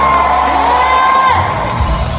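A large concert crowd cheers and shouts for the band, a loud sustained roar of voices with whoops rising over it.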